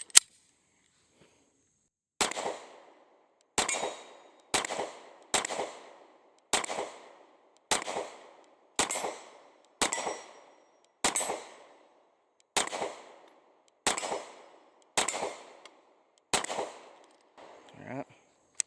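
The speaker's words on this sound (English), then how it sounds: "let's go ahead and put a few more rounds down range with her" A Smith & Wesson Shield X pistol fires about a dozen rounds with a 13-round magazine at a range, each shot loud and sharp, spaced evenly roughly a second apart, with no talk between shots.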